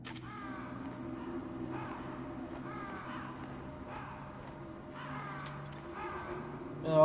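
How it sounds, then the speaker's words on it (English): Crows caw in the PlayStation game Metal Gear Solid, with faint scattered calls over a low droning game ambience and a brief louder sound at the end. "Crows."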